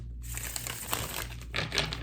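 A deck of tarot cards is shuffled up close, giving quick papery flutters and crisp clicking riffles that come in short bursts.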